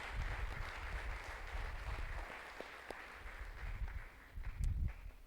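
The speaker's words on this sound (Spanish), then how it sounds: "Dele fuerte ese aplauso a nuestro Dios." Congregation applauding and cheering at an evangelical church service, a dense, fairly steady crackle of many hands clapping in a large room, with a few scattered shouts rising above it toward the end.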